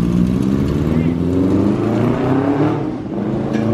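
An XR motorcycle engine revs hard out on the street, its loud, steady buzzing drone climbing in pitch as it accelerates, then dipping briefly before surging again, heard close and continuous throughout.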